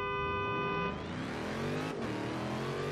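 The supercharged V8 of a Dodge Hellcat in the racing game Forza Horizon 3 revs hard and climbs in pitch after a whining start, a loud, close engine roar with no speech.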